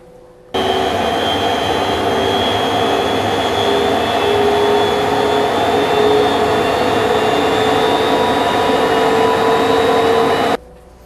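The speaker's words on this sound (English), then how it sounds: "Jim, here's a pressure blower with an open inlet." An industrial pressure blower fan with an open inlet runs steadily, a loud continuous roar with a whining tonal hum that starts abruptly, holds constant, then cuts off.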